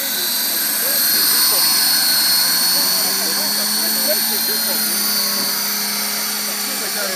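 A Trex 550E radio-controlled helicopter flies with a steady, droning rotor whine whose pitch slowly rises and falls, heard at moderate distance under a constant wash of outdoor background noise, with voices talking faintly.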